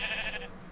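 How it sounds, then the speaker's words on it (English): A single short sheep bleat from a crafting video game, close and fairly clear, lasting under a second before fading. "Sheep everywhere."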